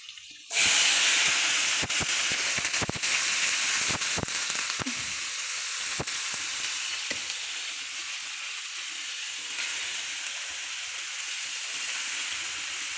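Cumin seeds dropped into hot oil for a home-cooked Bengali meal of fish, dal and vegetables, bursting into a loud, steady sizzle that holds for about twelve seconds, with a few sharp pops and clicks early on.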